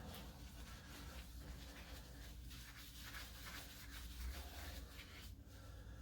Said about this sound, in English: we're going to go right to sanding